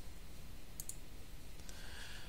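A couple of quick mouse clicks closing a dialog in GIMP, sharp and close over a soft background hiss, with no talking.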